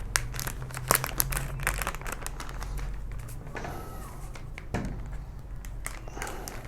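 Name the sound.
plastic bag being handled for a homemade cooling gel pack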